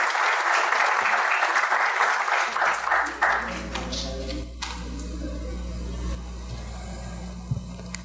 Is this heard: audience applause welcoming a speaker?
yes